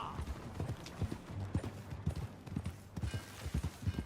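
Horse hooves in Red Dead Redemption 2 clip-clop in a steady, brisk rhythm over a low background rumble, close and continuous.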